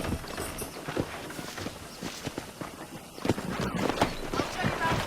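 In the Red Dead Redemption video game, horse hooves clip-clop at a walking pace on a ranch under outdoor ambience. Voices are heard over the rhythmic hoofbeats.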